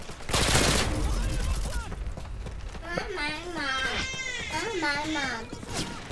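A short, loud burst of MP5K submachine gun fire from the shooter IW4x rattles at the start, then fades under excited talking voices that carry on over faint scattered shots.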